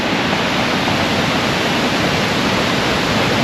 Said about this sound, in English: look at a beautiful waterfall.